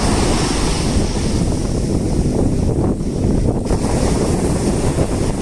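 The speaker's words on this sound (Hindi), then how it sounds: "विशाल समुद्र।" Ocean waves surge and break at the sea under a strong gusting wind, a loud, continuous wash of surf with wind buffeting the microphone.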